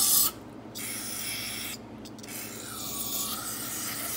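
Cleaner sprayed onto a lever arm shock absorber during a rebuild, heard as close, loud hissing bursts with brief breaks between them and a rubbing scrape near the end, no talking.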